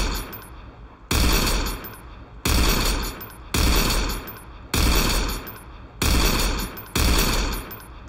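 A powerful handgun, a Desert Eagle, fires in a Roblox game: six loud, sharp shots spaced roughly a second apart, each with a booming blast and a ringing tail, heard alone.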